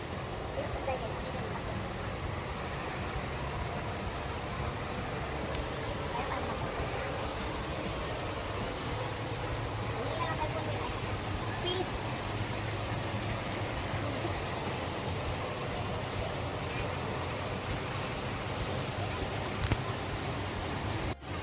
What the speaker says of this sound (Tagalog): Malakas ang agos ng tubig.